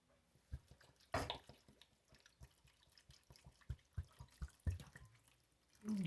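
Vinegar is poured while making refrigerator pickles, heard as faint, sparse drips and splashes in a quiet kitchen with one louder splash early on and no talking.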